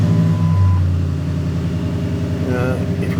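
A car engine with ABS and brake warning lights on turns over and runs, a loud close steady mechanical rumble with a brief rising tone near the end.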